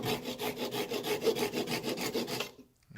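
Hand saw cutting through a Onewheel side handle, a quick run of rhythmic back-and-forth rasping strokes, close and clear, stopping abruptly near the end.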